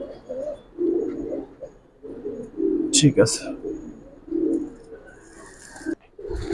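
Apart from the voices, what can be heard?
Giribaz and coloured pigeons cooing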